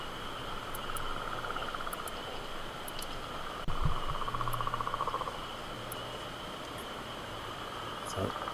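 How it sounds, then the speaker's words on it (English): Frogs calling at night by a lake during early spring, a steady high trill and faint repeated croaks over quiet background, with a soft thump partway through. "So I'm gonna go to sleep to the sounds of the loons and frogs."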